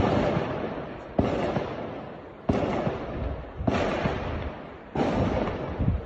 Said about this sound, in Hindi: आपको बम धमाके की जो आवाज है वो सुनाई दे रही होगा।